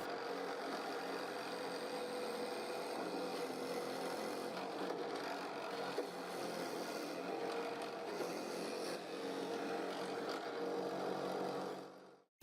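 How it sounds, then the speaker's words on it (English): Drill press boring holes through wood strips on a board, a steady continuous whir of motor and bit cutting for about twelve seconds before cutting off abruptly, close and fairly loud with no talk. "I put the first mark right below the tip of the bit, and I drill"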